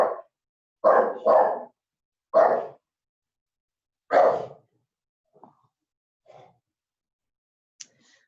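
Several dogs barking at a mail carrier arriving at the house, a quick burst of loud barks close by, then a few fainter, scattered yips trailing off.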